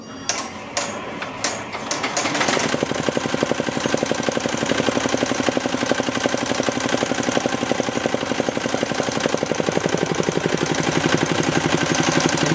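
A Melco embroidery machine starts up after a few clicks and settles into fast, steady rhythmic stitching, a close mechanical chatter that holds an even pace throughout.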